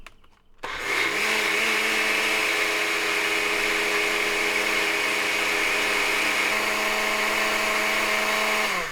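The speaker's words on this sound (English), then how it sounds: "Now comes the blender." An electric blender grinds soaked split beans, starting with a short motor surge and then holding a loud, steady high-pitched whir for the rest of the stretch.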